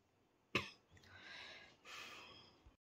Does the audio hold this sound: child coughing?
yes